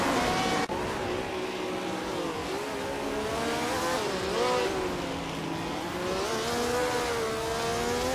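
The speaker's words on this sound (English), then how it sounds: "Cruising in a classic 1967 McLaren M5A." Engine of a classic 1967 McLaren M5A race car in a racing video game at the Mont Tremblant GP, a loud continuous whine rising and falling through gears, with other cars droning nearby.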